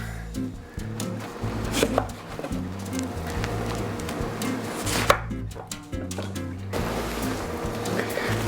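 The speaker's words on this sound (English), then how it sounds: "I'm also going to cut up this half onion, and that's going to go in also." A knife chops half an onion on a board in quick, steady strokes, close and clear with a short pause midway, while cooing pigeons sound faintly in the background.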